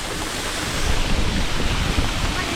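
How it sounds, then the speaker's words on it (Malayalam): A dense, steady roar of falling water fills the space from inside Krang Suri waterfall in Meghalaya, loud and unbroken, swelling slightly midway. "വെള്ളച്ചാട്ടത്തിൻ്റെ ഉള്ളിലാട്ടോ നമ്മളിപ്പോൾ നിൽക്കണേ"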